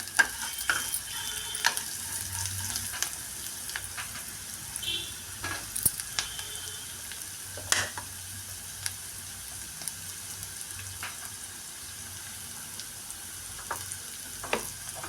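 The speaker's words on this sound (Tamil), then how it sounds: "வெங்காயம் ரொம்பலாம் வதங்கணும்னு தேவையில்லை, இந்த அளவுக்கு வதங்கினா போதும்." Chopped onions sizzle steadily in hot oil in a pan, with occasional scrapes and clinks as they are stirred, heard close and alone for a long stretch.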